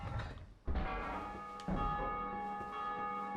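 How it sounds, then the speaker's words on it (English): A large bell tolls in Dark Souls II, two deep resonant strikes roughly a second apart, each leaving a long ringing hum that decays slowly, heard alone without talk. "Ooh, that's ringing the bell, ain't it?"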